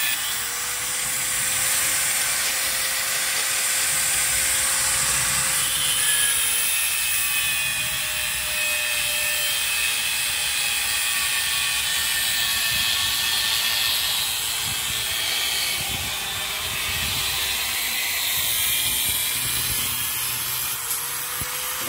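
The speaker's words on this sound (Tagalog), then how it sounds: "Gamitan po ng cutting disc at grinder." Angle grinder with a cutting disc cutting through a tie at a two-storey house construction site: a steady, loud, high-pitched abrasive whine running throughout with slight pitch shifts, no talking.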